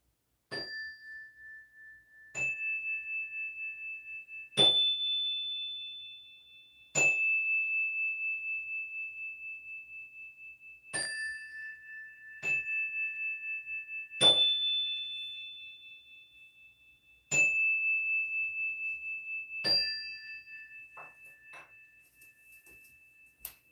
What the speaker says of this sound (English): I'm going to start by clearing the room by hitting a little bit of the bell over here.